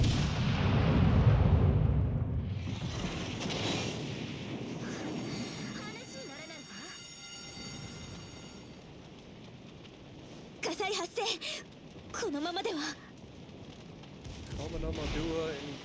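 Naval gunfire in World of Warships Legends, with heavy booming shot blasts and rumbling impacts, followed by quieter game sounds and a few sharp bursts later, while a voice talks over parts of it.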